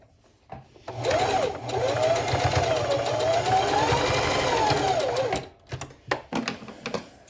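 Sewing machine running a zigzag stitch on a fabric mask, a steady fast mechanical whir lasting about four seconds, close and moderately loud, followed by a few short clicks and taps as it stops.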